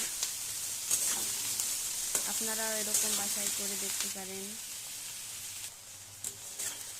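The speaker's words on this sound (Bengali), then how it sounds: "এই যে ভেন্ডি ভাজির জন্য তেল আর হলুদ লবণ দিয়ে তেলটা ভালো করে নেড়ে নিতেছি।" Okra fries in oil with turmeric and salt, a constant close hiss and sizzle from start to end, while a voice talks over it for a few seconds in the middle.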